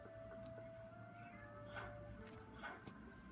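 A cat in a video game meows a few times, two or three drawn-out mews over a quiet background hum with soft music tones.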